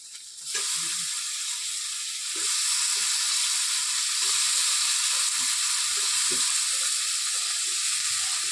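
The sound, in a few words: cut potatoes sizzling as they fry in a pan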